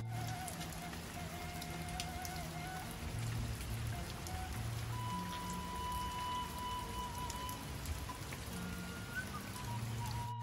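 Heavy rain pours steadily over a quiet village, a dense constant hiss with close drops pattering on surfaces, continuous and fairly loud with no voices.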